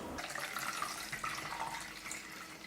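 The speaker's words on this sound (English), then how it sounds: "In goes the water." Water poured into a container holding a flower arrangement, a steady splashing and trickling stream that runs loud and continuous, close by with no talk.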